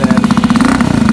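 A Benelli Motobi Evo 200 motorcycle fitted with a replaced exhaust pipe idles steadily, its low throbbing exhaust pulsing in an even, rapid rhythm, loud and close with no voices.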